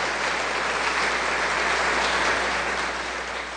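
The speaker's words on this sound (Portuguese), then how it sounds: "dê uma forte salva de palmas para o Senhor Jesus" Church congregation at a Sunday service breaks into strong, sustained applause, a dense steady wash of clapping that holds evenly and tapers slightly at the end.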